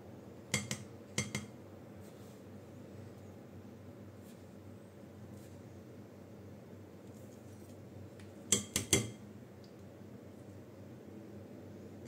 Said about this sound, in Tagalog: At ating paghalo-haluin.